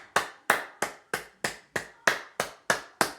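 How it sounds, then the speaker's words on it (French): One person clapping hands in a slow, regular rhythm, ten sharp, close claps about a third of a second apart with nothing else around them. "je l'applaudis parce qu'il s'est battu"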